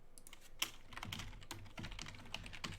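Someone types on a computer keyboard, a quiet run of irregular clicking keystrokes heard close up, with one sharper key strike early on and no voices.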